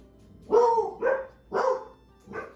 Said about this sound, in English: You big bad dogs